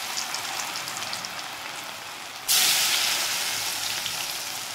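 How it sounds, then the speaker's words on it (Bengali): Cauliflower pakoras fry in white oil in a wok over low heat. The oil gives a steady, loud sizzling hiss that surges sharply partway through, as if more batter hits it, then keeps crackling. "এগুলো আমি ভেজে নিচ্ছি।"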